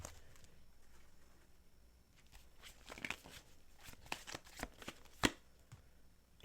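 Tarot cards being shuffled, a run of soft riffling flutters and taps building to a sharp crisp snap near the end, close and fairly quiet with no talking.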